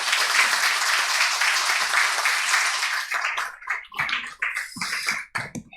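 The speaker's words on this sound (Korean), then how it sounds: "우리 박수로 환영하도록 하겠습니다" A church congregation at Sunday worship claps to welcome the pastor, a loud, even burst of applause that breaks into scattered, fading claps toward the end.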